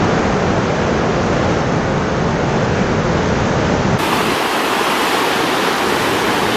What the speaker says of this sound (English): the water goes over it and then crashes down